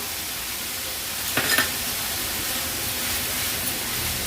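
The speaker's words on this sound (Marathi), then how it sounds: "खोबरं ॲड केल्यानंतर पुन्हा ही भाजी आपण परतून घेऊया" Coriander bhaji with freshly grated wet coconut is sautéed in a pan. A soft, steady sizzle hisses throughout, with a brief louder scrape of stirring partway through.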